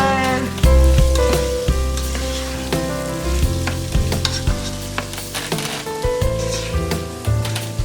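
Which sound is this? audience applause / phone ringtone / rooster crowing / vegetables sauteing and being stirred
vegetables sauteing and being stirred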